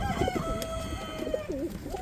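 Pigeons coo repeatedly nearby, soft rolling calls overlapping one another against a faint background hum.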